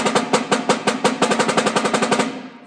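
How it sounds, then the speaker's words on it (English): A loud snare drum roll of rapid, evenly spaced strokes with crisp attacks, close and forceful, tapering off at the end. "Let's say you want to do loud rolls."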